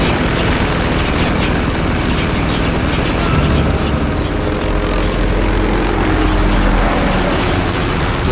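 Helicopter in the shooter Spec Ops: The Line, set over Dubai, a loud, steady rotor and engine roar with minigun fire mixed in, filling the whole stretch without pause.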